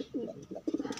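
Pigeons coo in a low, throaty burble, a few rolling calls close by on a rainy afternoon in a coop where birds sit on eggs.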